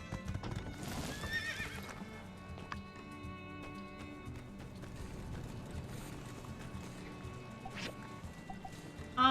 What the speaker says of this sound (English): Our chestnut steed.